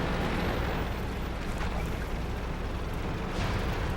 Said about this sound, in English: I got Artie throwing rounds at me